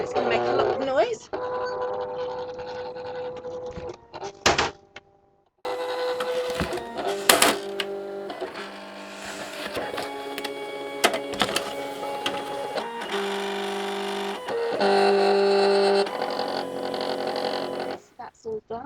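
Silhouette Cameo cutting machine scanning for registration marks on printable vinyl: uneven motor whirring and mechanical buzzing in stops and starts, fairly close, with a person speaking in between.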